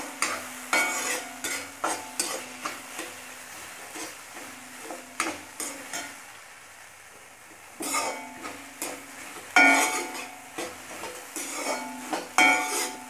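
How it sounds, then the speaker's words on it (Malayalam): Repeated scraping and clattering of a spoon stirring spice paste with salt in a hot pan for pappada thoran, close and steady, with a faint sizzle underneath and a short lull midway. "ഇത് നന്നായിട്ട് ഇളക്കി കൊടുക്കുക."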